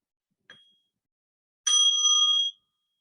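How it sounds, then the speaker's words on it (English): A meditation bell rings once during an online sangha gathering. A faint tap comes first, then a clear bright ring that holds for about a second against silence. "With the first sound of the bell, we bow to each other as cells in the Sangha body"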